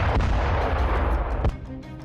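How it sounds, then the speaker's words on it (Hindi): A German cargo plane strikes a house near Vilnius, Lithuania, and explodes: a loud, rumbling blast with a sharp boom about midway, heavy low roar throughout, no voices. "ये प्लेन बेहद तेजी से जमीन की तरफ आता है और सीधा एक मकान से जाकर टकराता है, जिसके बाद एक जबरदस्त धमाका होता है।"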